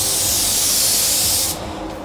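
A spray gun lays down Refilo Classic clear coat in a loud, close, steady hiss that cuts off sharply after about one and a half seconds, leaving a softer background rush.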